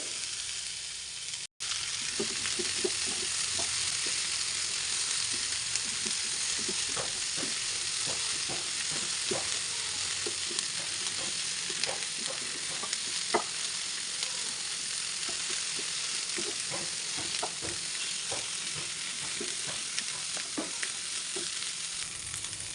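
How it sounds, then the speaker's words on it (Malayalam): Cauliflower being stirred into masala in a hot pan, a soft continuous sizzle broken by repeated light scraping clicks of a spoon, close and unhurried, with no talking. "കോളിഫ്ലവർ ചേർത്ത് കൊടുത്തതിന് ശേഷം നന്നായിട്ട് തന്നെ ഒന്ന് യോജിപ്പിച്ചെടുക്കണം"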